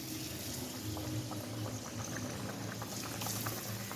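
Kombdi vade, Malvani-style flour bread, frying in a pan of hot oil, a steady dense bubbling sizzle with small pops that holds throughout at moderate loudness.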